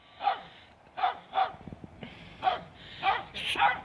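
Dogs bark in short, sharp yelps, about seven in an uneven rhythm over a few seconds, fairly close and moderately loud, during an evening gathering.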